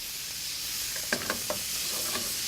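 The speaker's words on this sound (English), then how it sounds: "Here, you try to make sure that everything gets sauteed evenly" Small fish and seafood dishes sauteed together in one pan, with a steady sizzle and a few distinct stirring scrapes and clinks of a utensil against the pan, close and moderately loud.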